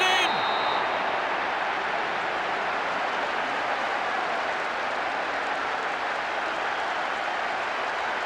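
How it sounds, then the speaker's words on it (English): Opposing fans in a football video game's CONCACAF qualifying final roar and boo as one loud, steady crowd wash that fills the stadium from start to finish. "Big booing from the opposing fans."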